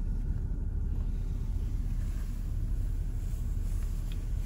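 The engine of a 2014 Audi Q5 S-Line runs steadily, a low continuous rumble heard from inside the cabin, even and unbroken, with no voices over it.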